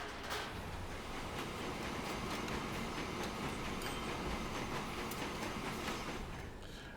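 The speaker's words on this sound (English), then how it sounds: "And just as I do that, you bring along a new locomotive." A locomotive arriving in Transport Fever 2, a steady rumbling train passage with rail clatter that holds at constant loudness throughout, close and continuous with no talk over it.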